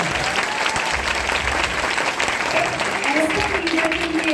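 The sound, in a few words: audience giving loud applause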